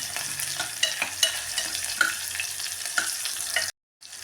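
Kichdi of ration rice with spinach and fenugreek frying in a pan, a soft continuous sizzle broken by several spoon clinks and stirring scrapes, close, stopping abruptly near the end, no voices.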